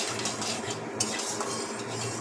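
Raw rohu fish goes into a wok with a spoonful of oil and fried whole cumin seeds, then gets stirred, giving a close scraping and clinking of utensil against metal over a low hiss.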